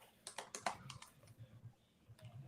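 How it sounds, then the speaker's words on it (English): Quiet typing on a computer keyboard, a short burst of several quick clicks followed by sparser taps, faint and close with low background noise and no speech. "you got to keep typing"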